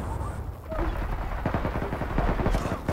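Rapid automatic gunfire in the online shooter Zula, a dense burst of quick cracks under a noisy game mix with overlapping voices.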